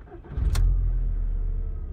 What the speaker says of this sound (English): Let's give it a turn,